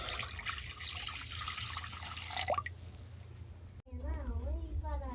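Water is poured into a pot for boiling momos, heard as a faint trickling splash under low kitchen rumble before a person begins speaking near the end.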